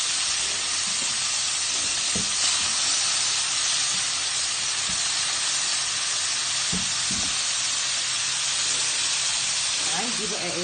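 Chicken gizzards frying in a spoonful of ghee in a pan give a steady, dense sizzle throughout, with occasional light clinks and stirring knocks close by.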